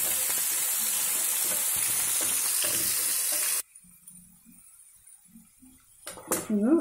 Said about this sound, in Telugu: ఆనియన్స్ కొంచెం రెడ్డిష్ వచ్చే వరకు వేగాలి